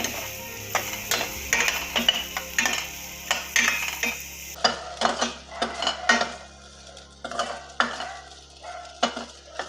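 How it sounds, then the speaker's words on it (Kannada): Makhana (lotus seeds) toasting in a spoonful of ghee make a rapid series of close spatula scrapes and rattling clatters against the pan over a faint sizzle. The stirring stays busy and uneven throughout, with no speech. "ತವರೆ ಬೀಜದ ಮಖಾನನ ಫ್ರೈ ಮಾಡ್ಕೊಳ್ಳೋಣ."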